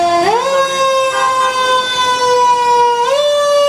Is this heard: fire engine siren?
yes